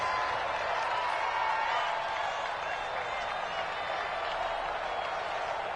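In a football video game on PS4, a steady wash of crowd noise rises into cheering and applause ahead of a big third down, constant throughout and moderately loud.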